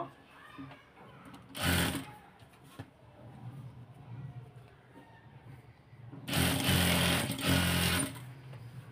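A sewing machine stitches piping onto a kameez in two loud bursts of rapid mechanical whirring, a short one and a longer one, with quiet handling noise between them.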